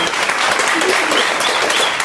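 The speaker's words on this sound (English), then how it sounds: "A round of applause" A loud, dense burst of audience applause at a book launch, with many hands clapping in a continuous wash that stays even throughout and has no gaps.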